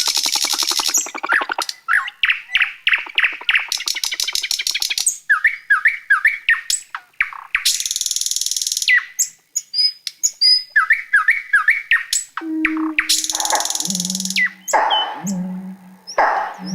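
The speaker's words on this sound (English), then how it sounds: "And now the nightingale comes in." Nightingale song in a varied run of rapid repeated notes, liquid whistles, sharp chirps and buzzy trills, loud and close with brief pauses between phrases, no voices.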